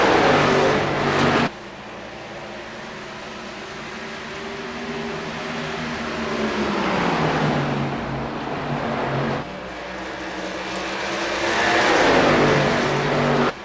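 Simulated stock cars racing at Dover in the iRacing game, a loud continuous engine roar with pitch sweeping up and down as cars accelerate and pass, with abrupt cuts between engine tones.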